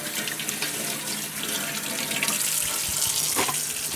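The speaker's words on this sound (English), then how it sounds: "Give my hands a little bit of wash down." Hands washed under a running kitchen tap, a steady close stream of water splashing into the sink throughout, with no talk.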